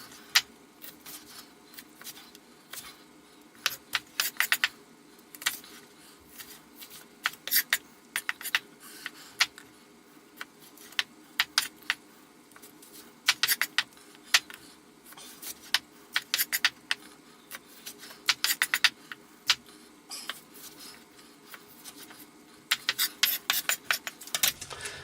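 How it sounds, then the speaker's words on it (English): Knife chopping small spring onions on a board, with irregular bursts of quick, sharp taps and clicks over quiet background, no talk. "if you get a small spring onion, you don't need to quarter it, you just need to chop it like that"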